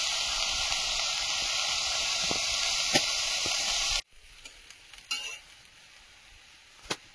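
Fresh washed bottle gourd greens (lau shaak) tossed into a hot pan with oil, giving a steady close sizzle with a few sharp crackles, then quieter frying with occasional pops.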